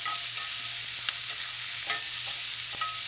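Onions and jalapenos frying in a pan over medium heat for chili: a steady, close sizzle with a few faint scrapes of stirring and no talk.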